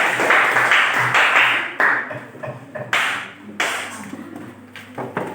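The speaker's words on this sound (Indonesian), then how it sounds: "Kita berikan aplaus untuk mereka" A classroom audience claps for a student group that has just finished presenting, a dense burst of applause that swells, dips and flares up again in waves before thinning out near the end.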